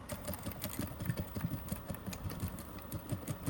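A sewing machine back stitching along a zip sets up a steady, fast mechanical whir with rapid needle ticking, continuous and close throughout.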